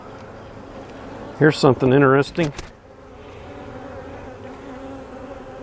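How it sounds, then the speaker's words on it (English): Honeybees on a hive frame of capped brood swarm and attack an intruding wasp or hornet, making a steady close buzzing hum throughout while someone speaks briefly over it. "There is a wasp or a hornet right there, and the bees are attacking it and killing it."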